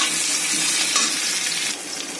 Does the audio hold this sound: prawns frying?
yes